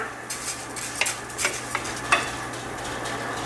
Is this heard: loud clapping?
no